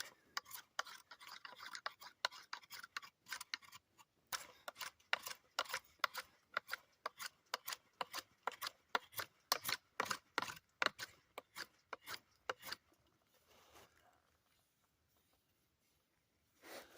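Finishing knife shaving smooth a piece of wood already roughed out with a roughing knife, a quiet run of regular crisp scraping strokes that stops near the end.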